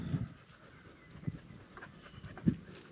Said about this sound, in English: hey doggy, why are you following me?